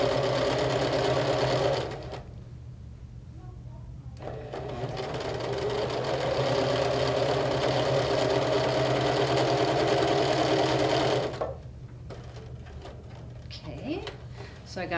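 A sewing machine stitches quilt blocks to sashing in two long, steady runs, a brief pause between them, with some quiet talk nearby.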